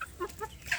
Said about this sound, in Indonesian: ini saat yang tepat untuk anak ayam kampung saya ini saya lepaskan di tempat umbaran